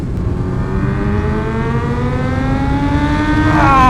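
Kawasaki ZH2 motorcycle with a full aftermarket exhaust revs hard and continuously, the engine note climbing steadily in pitch to a loud, rising howl near the end.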